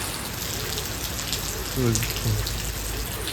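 Rain falls on a village near Botad as a steady, soft hiss that fills the whole clip, with a voice briefly murmuring partway through.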